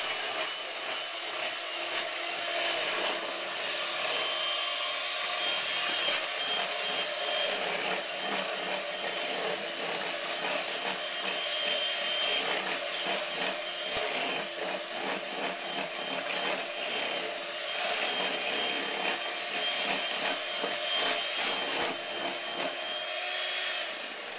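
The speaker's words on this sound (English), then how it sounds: "we can whisk them all together" Rapid, steady whisking of egg yolks in a bowl, a continuous busy scraping rattle, close up with no talking.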